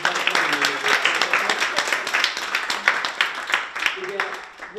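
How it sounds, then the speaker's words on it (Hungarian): A crowd at a school performance claps warmly for children, teachers and parents: a steady patter of many hands, loud and close, with voices talking over it throughout. "egy nagy tapsot a gyerekeknek, a tanároknak és a szülőknek is"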